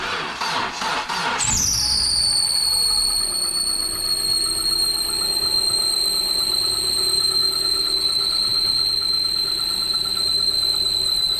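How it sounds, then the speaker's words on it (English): A long-unused Hyundai engine cranks and catches, then a seized alternator lets out a loud, steady high-pitched squeal that holds for about ten seconds over the running motor. "The squealing, I believe, was the alternator probably froze up"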